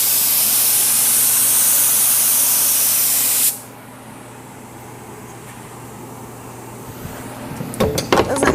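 Activator sprays in a loud, continuous hiss onto carbon hydro-dipping film for about three and a half seconds, then stops abruptly, leaving quiet room tone and a few soft handling knocks at the end.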